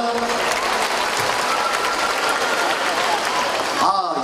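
Applause from an outdoor festival crowd greeting the city council chairman, a dense, steady clapping wash that holds throughout and cuts off abruptly near the end, with a voice briefly audible.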